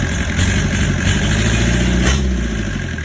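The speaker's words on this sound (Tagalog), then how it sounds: "Ito yung makina, 4DR5 Camelback, bagong dating." A newly arrived Mitsubishi 4DR5 Camelback diesel engine in good condition idles loudly and close by with a steady, rough, low rumble, swelling slightly twice, and no voices.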